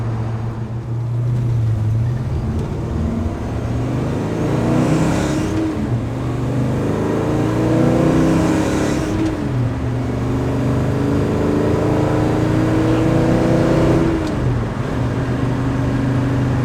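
A 1967 Chevelle SS with 3.73 gears cruising at highway speed, about 65 mph at roughly 2,000 rpm, giving a loud steady engine drone with road noise and a few small swells in pitch.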